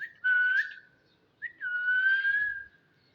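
Human whistling used to train a cockatiel parrot, two clear sustained whistled notes, each with a quick rising start, loud and close with a short gap between.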